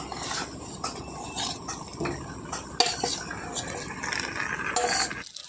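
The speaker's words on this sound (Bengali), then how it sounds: "তারপর ভালো করে চিকেনটাকে কষিয়ে নিচ্ছে।" Marinated chicken stirred and sautéed in a spice masala with tomato, with a spoon scraping and clinking against the pan and a steady sizzle running underneath throughout.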